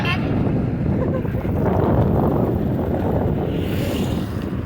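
Steady wind buffeting a microphone outdoors, a continuous low rumble that stays loud and unbroken throughout, with no clear voices over it.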